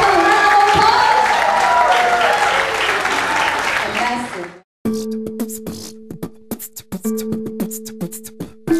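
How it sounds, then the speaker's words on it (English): An audience at a bloggers' gathering in Sabah bursts into dense, steady applause with some crowd noise for several seconds, then it cuts abruptly to loud pulsing dance music. "Give yourself a round of applause!"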